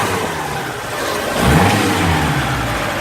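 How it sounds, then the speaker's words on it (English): A car engine, just given a roadside ignition points fix, runs steadily then swells into a quick rev around the middle before settling back to a smooth, even hum, close and fairly loud with no talking. "Okay, Ben, just give it a few revs for me."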